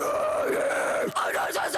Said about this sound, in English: And then the scream doubling is also another like a fake doubler sound.